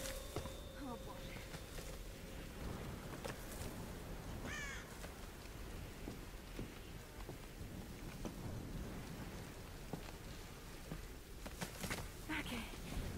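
A crow in the Tomb Raider game gives a few harsh caws, including a clear rising call in the middle, over a continuous rain-like ambient wash and scattered game noises.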